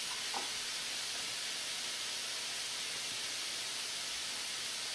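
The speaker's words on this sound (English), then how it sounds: "You can hear that little light sizzle, see the steam coming up there." Soft, steady sizzle of cod fillets frying in a pan, a quiet even hiss with no talking.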